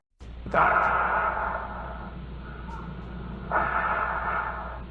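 Heavy, slow breathing of a man on an answering machine recording, close to the microphone, two long drawn breaths with a muffled, slightly echoey tone.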